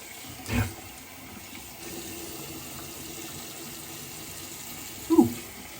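Tap water running steadily at a sink while soap is rinsed off, a low continuous wash with a couple of louder splashes at the start and near the end, no talk.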